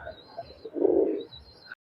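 A golden running pigeon, Pakistani highflyer, coos once in a soft swelling call close by, with faint chirps around it and no talk.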